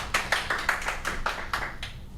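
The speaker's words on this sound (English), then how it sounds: "Everyone give her a round of applause." Small audience clapping for a guest introduced on a podcast, a short burst of distinct, fairly close handclaps in a loose uneven rhythm that thins out after about two seconds.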